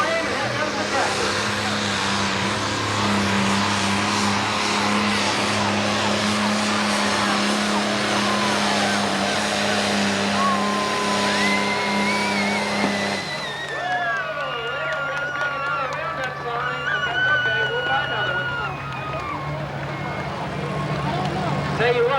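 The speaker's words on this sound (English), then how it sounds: "He grabs himself a handful of throttle, goes the black smoke, here comes the flame, and here comes the tractor." A 10,000 lb Pro Stock pulling tractor roars at full throttle at a 1996 tractor pull in Evansville, Indiana, a loud sustained engine drone that shifts in pitch midway, with an announcer talking over it.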